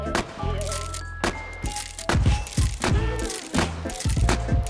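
Pump-action MP5 firing in the VR shooter H3VR, several loud, punchy shots spaced out with mechanical clacks between them, over a low steady hum.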